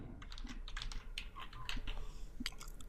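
Close, quiet typing on a computer keyboard, with a quick irregular run of light key clicks spread across a few seconds.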